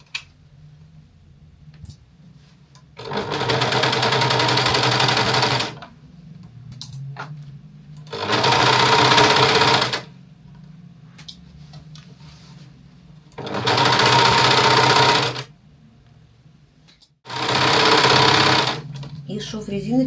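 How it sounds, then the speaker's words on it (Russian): An overlock serger stitches a seam on fabric in four steady bursts of loud, fast whirring, separated by short pauses, while someone talks between and over the runs. "строчку на оверлоке. Начинаю от складки, там, где у нас не нужно ничего натягивать."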